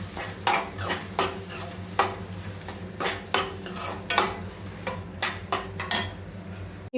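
Onions and chopped tomatoes fry in a pan while a spoon stirs and scrapes at them, giving repeated sharp clinks over a steady low sizzle, close and fairly loud, with no voices.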